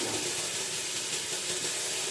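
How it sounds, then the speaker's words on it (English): Cool water runs steadily from a sink tap in a continuous, even hiss, close by and moderately quiet, with no voices. "So I have cool water running."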